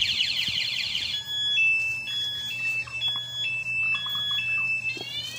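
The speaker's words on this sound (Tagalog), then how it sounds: "Alarm siya." A one-way alarm on a Honda XRM 125 motorcycle sounds loud and close, cycling through shrill electronic tones that step up and down in a steady repeating pattern for the full clip, with no talking.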